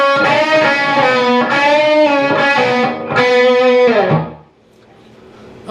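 A loud, distorted electric guitar plays the closing line of the solo from a song, a sustained lead with a few held notes and bends, ending in a fading slide.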